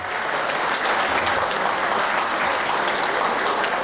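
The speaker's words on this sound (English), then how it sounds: "let's give him another round of applause" Audience applauding State Representative Sam Park at an annual unity gala, a dense sustained round of clapping from a large crowd that stays even throughout.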